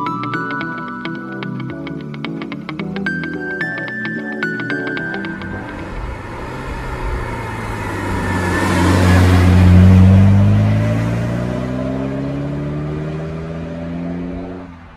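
A 1988 Porsche 944 with a 2.7-litre engine, heard first under a musical melody, then rising to a loud close revving swell that peaks and gradually falls away.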